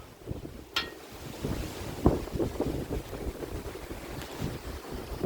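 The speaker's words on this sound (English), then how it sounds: "35 mile an hour winds, 55 mile an hour gusts." Strong wind gusting outdoors in North Dakota, with sustained winds near 35 mph and gusts near 55 mph, roaring and buffeting the microphone in a continuous rumbling wash with sharper surges.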